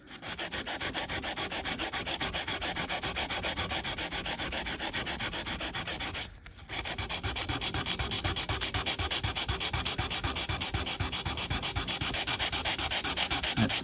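Stainless steel trim being sanded by hand with 320 grit paper before buffing: a steady, close, rhythmic rasping scrub that continues almost without a break, pausing only briefly partway through.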